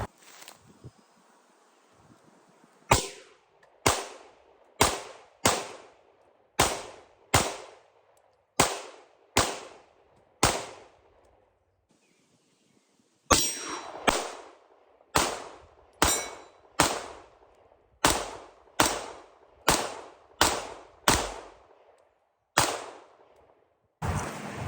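Shadow Systems CR920P pistol fired outdoors, roughly two dozen sharp, loud reports spaced about a second apart in two strings separated by a short pause, each shot ringing out with a decaying echo.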